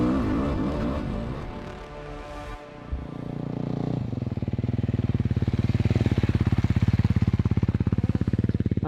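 A Beta 450 dirt bike races through the final turn, the engine revving and shifting, then settling into a loud, close, rapidly pulsing drone.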